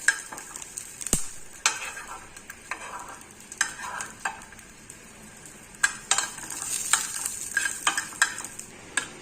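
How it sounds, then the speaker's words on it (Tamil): Garlic sautéing in a pan for a South Indian lentil spice powder, a soft sizzle under repeated scraping stirs and clinks of a utensil against the pan, with no voices. "இப்போ நல்லா பூண்டு வதங்கிருச்சு"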